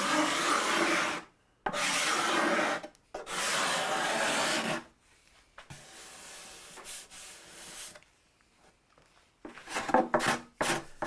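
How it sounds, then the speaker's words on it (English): Guitar wood being hand-scraped crossways with a scraper: loud, rough rasping strokes in several long bursts, then quieter, lighter scrapes and a few short sharp strokes near the end, with no talking. "you'd scrape crossways like this"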